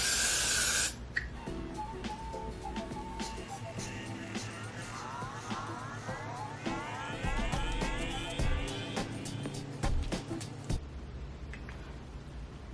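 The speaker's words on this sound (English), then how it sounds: "and then you add your holding spray." A steady aerosol hiss of holding spray sprayed on a lace wig continues for several seconds, close by, with faint clicks and rustling underneath.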